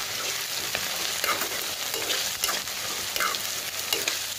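Ginger, garlic, onion and green chillies frying in a pan, giving a steady close sizzle with soft stirring scrapes throughout.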